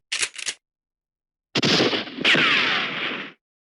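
Gunfire in a Wild West video game: two quick sharp cracks, a pause, then a long burst of rapid shots with a ringing ricochet-like tail, loud and alone without talk.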